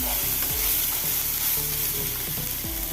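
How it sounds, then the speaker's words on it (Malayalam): Chopped tomatoes stirred into a frying egg curry masala, a steady loud sizzle with repeated scraping strokes of the spoon against the pan at a regular rhythm, close up and with no talking. "തക്കാളി അരിഞ്ഞ് ചേർത്ത് കൊടുക്കാം ഇളക്കി കൊടുക്കാം"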